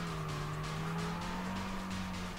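Car engine droning with tire squeal in Kaido Racer 2, a sustained steady engine tone with a hissing skid layered on top, continuous and fairly faint.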